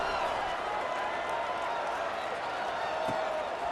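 A football stadium crowd at Utah State at New Mexico, tied in the third quarter and waiting for kickoff, sends up a steady, dense roar that holds unbroken and fairly loud throughout.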